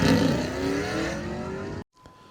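A 6.0 LS stick-shift Trans Am makes a quarter-mile drag run, its engine roaring loudly and climbing in pitch through the revs before the sound cuts off abruptly into near silence.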